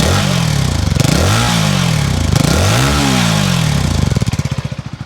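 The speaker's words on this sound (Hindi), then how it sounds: "एक बार मैं आपको इसके एग्जॉस्ट की आवाज़ भी सुना देता हूँ।" A Keeway K300R motorcycle with an under-belly exhaust revs hard several times in a row, each blip rising and falling in pitch, loud and close, then settles toward idle.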